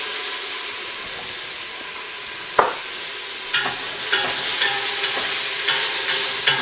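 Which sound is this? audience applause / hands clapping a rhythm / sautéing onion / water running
sautéing onion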